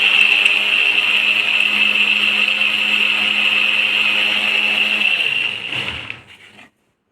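A mixer grinder blending tamarind water whirs loudly and steadily with a high-pitched motor whine for several seconds, then spins down and stops.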